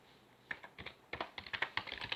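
Typing on a computer keyboard, a brisk run of close, crisp key clicks in irregular bursts with short pauses.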